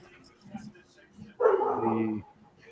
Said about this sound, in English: I think that's my dog. I'm going to have to go shut him up here in a second.